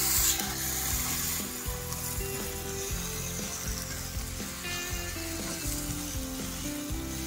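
Onion with ginger-garlic paste, salt and chili powder sizzles steadily in a pan for a pomfret fish curry, with rhythmic scraping and rubbing strokes of a spoon stirring the mixture close up.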